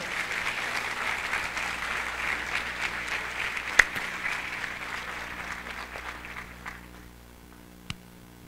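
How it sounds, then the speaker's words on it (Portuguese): A congress audience at the opening ceremony of the 6th Freemind International Congress applauds organiser Dedé Martelli. The clapping is full and sustained, then thins out and fades, leaving a few last isolated claps against quiet hall hum. "Uma grande salva de palmas para o meu brother."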